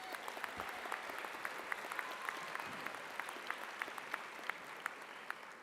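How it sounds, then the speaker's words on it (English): Audience applause at a university convocation ceremony, a dense, even wash of many hands clapping at a distance, fairly quiet and steady throughout. "Another round of applause for Emmy."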